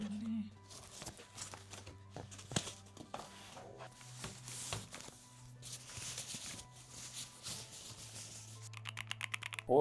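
Keys clack on an MSI Forge TKL wireless compact tenkeyless keyboard, quiet irregular taps and a faster burst near the end, while a person talks over them.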